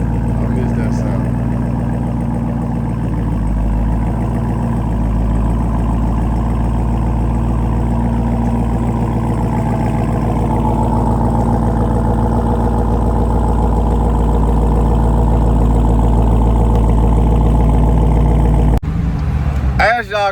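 A Jeep Grand Cherokee Trackhawk idling after being started again, with a steady, loud, low engine rumble that holds throughout before cutting off abruptly near the end.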